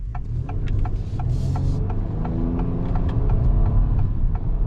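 A 2022 Acura MDX engine hums in a low, throbbing drone inside the cabin, rising slightly in pitch midway as it shifts down into first gear, with faint ticking clicks over the steady rumble.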